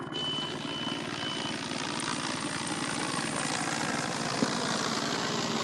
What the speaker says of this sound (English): we got one of our helicopters getting ready to kick off here